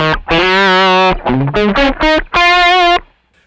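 Distorted electric guitar tone from an Ammoon Pockrock multi-effects processor with the cabinet simulation switched off, playing a handful of sustained, buzzy chords and notes, loud and close with no talking.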